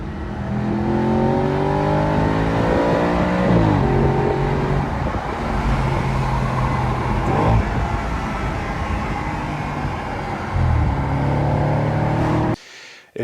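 A 2015 Audi RS5 B8.5 with a 4.2-liter naturally aspirated V8 revs hard while driving, sweeping up through the rev range with audible shift breaks. It is loud and close throughout and cuts off abruptly at the end.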